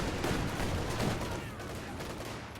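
Gunfire in Company of Heroes 2 strikes a building, a dense rattling barrage of rapid impacts and shots in a wartime battle, steady and moderately loud with a noisy, cluttered background.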